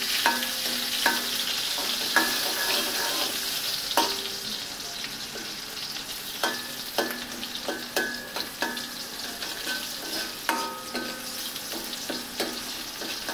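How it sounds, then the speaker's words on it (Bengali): Chopped onions frying in hot oil with a steady bright sizzle, while a utensil knocks and scrapes against the pan in irregular strokes, close by and without speech. "পেঁয়াজগুলো একটু তেলের মধ্যে ভেজে নিচ্ছে"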